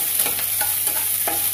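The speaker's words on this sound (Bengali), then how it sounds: "একটু বাদামি বাদামি করে ভেজে নেব।" Finely chopped onions fry over a lowered gas flame for chicken samosa filling, a loud continuous sizzle with a few scraping stirs at irregular intervals, close up and without talk.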